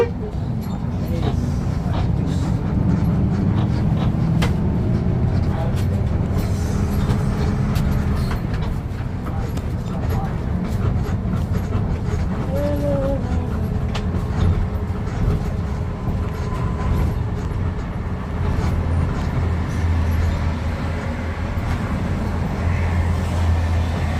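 A bus on the Cipali toll road, heading toward the Palimanan 1 gate, carries a steady low road and engine rumble from inside the cabin, with faint talk underneath.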